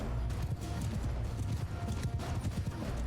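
Cavalry horses gallop in the Mount & Blade II: Bannerlord battle, a dense, continuous drumming of hoofbeats rumbling steadily throughout with no speech.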